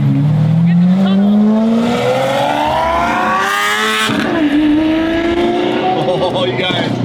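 A Lamborghini Aventador SVJ supercar revs hard through a tunnel, its engine note climbing steadily through two long pulls with a brief break between shifts, loud and echoing, while people talk and shout over it.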